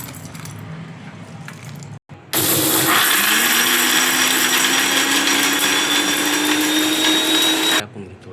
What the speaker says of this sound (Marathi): अद्रक, लसूण आणि थोडीशी वरून कोथिंबीर टाकून बारीक ग्राइंडरला करून घ्या मिक्सरला